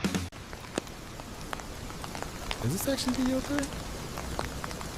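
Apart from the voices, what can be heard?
rain falling in an AI-generated video clip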